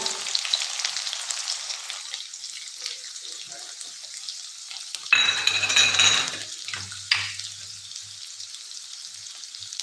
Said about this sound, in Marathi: कांदा छान गोल्डन रंगावर परतून घ्यायचा आहे